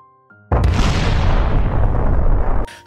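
Giga Bomb town hall explosion in Clash of Clans: a short click, then a sudden loud, full-bodied blast that roars densely for about two seconds before cutting off abruptly, followed by a brief burst of noise.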